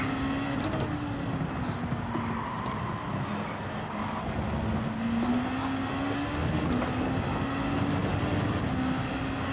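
Race car lapping Fuji in Gran Turismo 7 during an online Nations Cup qualifier, a sustained engine drone with a gliding pitch as it shifts and corners, continuous and prominent with no talk.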